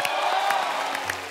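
Audience applause and light cheering on The Kapil Sharma Show as a singer is welcomed, a dense crowd clapping steadily with a few whoops, fairly loud throughout the short burst.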